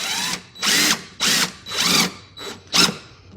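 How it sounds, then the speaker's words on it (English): A power drill drives self-tapping screws while a solar generator is assembled, heard as five or six close, loud whirring bursts with short pauses between them, each ending in a quick stop. "I'm going to pop this with a couple of self-tapping screws."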